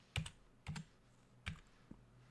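Keys on a computer keyboard are struck as a command is typed into Kali Linux: a few separate, fairly faint clacks spaced unevenly, close by, with no voices.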